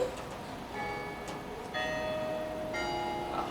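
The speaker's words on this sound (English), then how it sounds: "Go pray when the bells ring." Church bells ring in a stage production of Cyrano de Bergerac, struck tones with lingering hum, fairly faint and distant, sounding in a few separate strikes over a quiet background.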